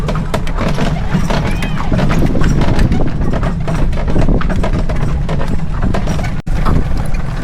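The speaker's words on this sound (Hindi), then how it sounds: "घोड़ा भी और ये बग्गी भी।" A well-kept horse pulling a buggy at a Karachi resort clops along in a brisk, steady rhythm, loud and close, with rattling and rumbling from the carriage over the whole stretch.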